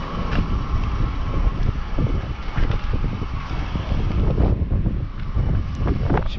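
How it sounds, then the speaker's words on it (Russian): Strong wind blowing outdoors buffets the microphone with a constant low rumble and gusty roar that rises and falls, and faint knocks and rattles sound through it. "Ой, какой ветер."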